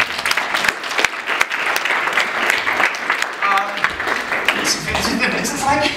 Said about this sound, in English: I think we need to give them a round of applause for that.